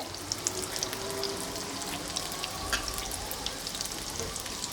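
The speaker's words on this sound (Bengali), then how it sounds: "আস্তে আস্তে ভাজছি" Soft, steady crackle and bubble of cabbage buns deep frying in oil, close by and fairly quiet, with tiny pops scattered throughout.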